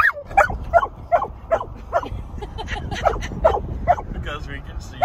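A dog gives a run of short, repeated yips and barks at an even pace, fairly close and moderately loud, with some voice-like sounds mixed in.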